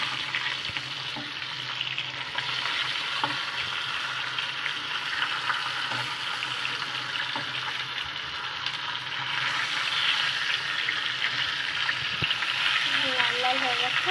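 Fish pieces fry in hot oil with a loud, steady, close sizzle and crackle that continues throughout, with occasional light scraping from a utensil.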